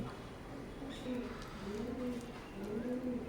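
Teddy pigeons of an imported Oman bloodline cooing nearby in a breeding loft, several soft repeated low coos in a rolling rhythm.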